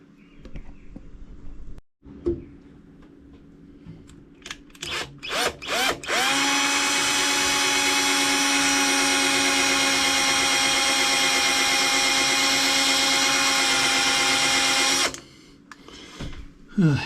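Power drill boring holes into a caravan cupboard, with a few short trigger bursts followed by one long, steady, loud whine lasting about nine seconds before it stops, and quieter handling noises before and after.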